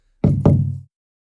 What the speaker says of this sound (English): A single, hollow knock at the door.